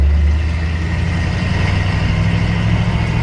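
A 1964 Chevrolet C-10 pickup with a three-on-the-tree column shifter, engine running with a loud, steady low rumble heard close up, no talking.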